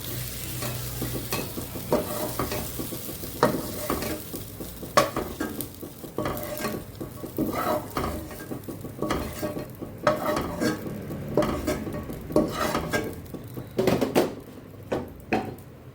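Fried tomato and onion being pushed aside next to dried red chillies in a pan for street-style egg bhurji, with steady sizzling and repeated scraping stir strokes and utensil clinks throughout, close and alone.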